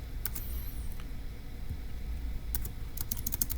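Quick, light keystrokes on a computer keyboard, typed in a few short bursts at close range against a quiet background.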